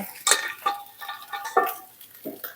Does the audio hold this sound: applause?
no